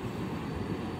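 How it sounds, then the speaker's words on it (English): A Union Pacific intermodal freight train of 66 cars rumbles past at Mount Airy, Georgia, a loud continuous low roar of wheels and wagons with no pauses. "66 cars, Union Pacific, train one, track one. Intermodal."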